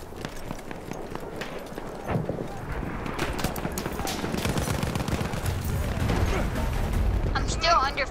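Battlefield 1 gunfire and explosions in a World War I shooter, rapid shots and heavy blasts building into a dense, loud barrage with galloping horse hooves, clattering impacts and a whistling sound near the end.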